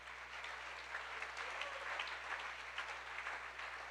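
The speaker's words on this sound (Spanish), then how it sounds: "Un aplauso para Jesús en esta hora." Faint applause rises from a church congregation during a sermon, a steady patter of many hands heard at low level over a constant low electrical hum.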